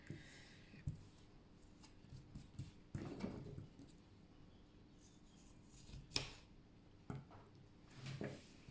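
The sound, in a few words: cutting macramé cord for a dream catcher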